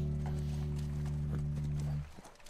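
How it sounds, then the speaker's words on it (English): A horse's hooves clip-clop at a steady riding pace in the video game The Last of Us Remastered, over a sustained low musical drone that cuts off near the end. "Riding on my horse."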